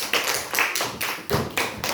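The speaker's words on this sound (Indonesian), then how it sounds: "Tepuk tangan untuk kelompok 3." A primary school class claps for group 3, several short sharp bursts of clapping in an uneven rhythm, close and fairly loud.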